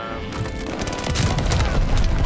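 A gold MG42 machine gun blind firing in Call of Duty: Vanguard, a continuous rapid stream of loud, close automatic shots that grows heavier toward the end.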